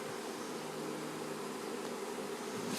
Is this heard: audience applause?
no